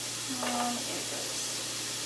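Onions frying in a pan over low heat give a steady, moderate hiss and sizzle close by, with a brief stir partway through and a faint voice underneath.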